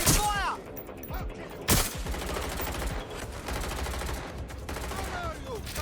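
Bursts of gunfire in a Watch Dogs Legion shootout, rapid rattling volleys with a sharp loud shot near the two-second mark, continuing densely throughout.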